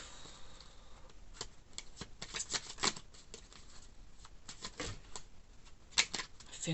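Tarot cards are shuffled by hand in a series of quick papery riffles and taps, irregular bursts close to the microphone, alone without talk.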